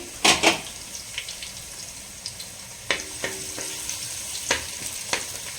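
Chicken and spring onion fry in a pan for a restaurant-style roast, with a low sizzle broken by sharp scraping and clatter as the pieces are stirred, loudest near the start and then in scattered knocks.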